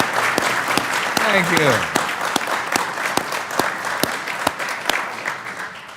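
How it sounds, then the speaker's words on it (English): A committee meeting audience applauds, dense clapping with sharp individual claps standing out, running throughout as someone speaks briefly over it. "thank you all for that wonderful applause"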